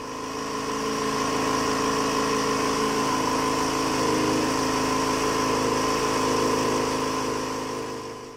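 A 50cc Irbis scooter engine runs steadily at a constant pitch, close and loud, with a buzzing, rattling tone throughout and no talk.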